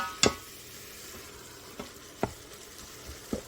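Spoon stirring cumin into carnivore chili in a pan, a few sharp scraping clinks spaced apart over a soft, low sizzle, close up with no voices.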